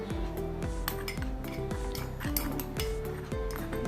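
Custard powder and milk being stirred together in a bowl for mango pudding, with a spoon scraping and clinking against the sides in a steady, repeated rhythm throughout, close and fairly loud.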